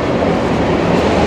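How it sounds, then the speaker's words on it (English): A Manchester Metrolink tram rolls past close by with a steady, dense rumble of wheels on rail that fills the whole moment without a break. "The mini metro Manchester."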